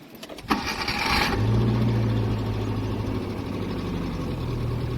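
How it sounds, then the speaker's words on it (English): A low-budget campervan's engine, freshly given a full revision with new transmission and clutch, cranks briefly, catches and settles into a steady, smooth low idle close by. "Okay, let's start the engine."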